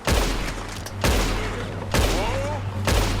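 Gunfire in Red Dead Redemption 2, a rapid series of loud, heavy shots with booming tails, about four main bursts spaced evenly, with a voice calling out in between.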